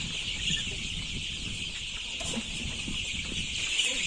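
Color Bird poultry chickens about fifteen days old cluck and peep steadily while eating at the feeder, a constant mix of close, overlapping calls over a soft hiss of farm-shed noise.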